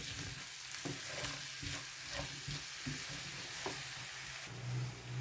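Potatoes and onion fry over a low flame for a Spanish omelette, a continuous dense sizzle with regular soft scrapes of stirring, close and steady, with no talking.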